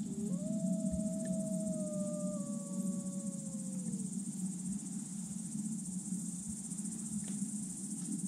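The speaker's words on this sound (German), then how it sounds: "wir haben ja das Wolfsheulen gehört" Wolves howling at night in the outdoors, one long wavering howl with a fainter second voice rising and falling over a steady bed of chirping crickets, distant and alone with no talk.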